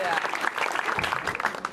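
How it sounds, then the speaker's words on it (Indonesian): Audience applause for a comedian at an Indonesian stand-up comedy show, a dense steady patter of many hands clapping close and loud, with some voices mixed in throughout. "Ini kasih tepuk tangan sekali lagi buat Joy."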